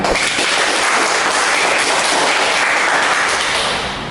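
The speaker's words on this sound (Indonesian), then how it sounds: "coba kita tepuk tangan dulu yang mulia" A studio audience at a podcast taping applauds together in a dense, even burst of many hands that stays loud, then eases off slightly at the end.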